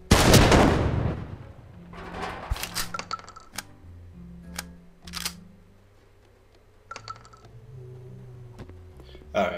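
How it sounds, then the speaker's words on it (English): Explosive barrels blow up in the voxel shooter game Super Voxel World, opening with a loud, close blast and followed by scattered sharp bangs and impacts of varying strength over quieter game sounds. "We'll explode in barrels."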